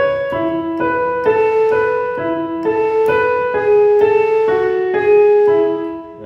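Guitar chords for the interlude of a song ring out in a steady strummed pattern, several chord changes flowing together into a short melodic passage with no voices.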